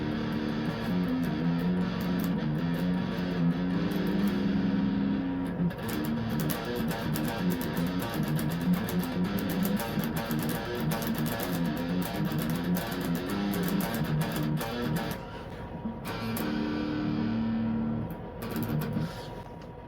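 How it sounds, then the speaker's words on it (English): A funky, groovy bass guitar riff played through effects with light fuzz rather than heavy distortion, loud and continuous with a steady rhythmic pulse and brief dips near the end. "funky bass riff."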